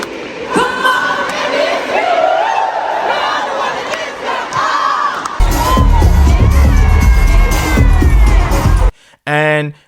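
A packed floor crowd at a concert roars and shrieks with sustained cheers and screams, swelling louder and heavier midway before a sudden cut and a brief final burst.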